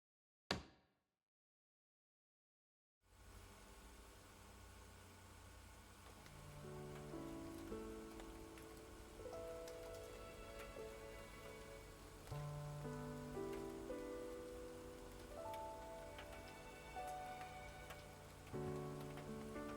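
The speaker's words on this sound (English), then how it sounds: "the sound of artificial rain floods in from all sides" After a brief knock and a few seconds of silence, artificial rain for an indoor scene swells in as a dense, steady hiss of falling drops, with sustained musical tones layered through it.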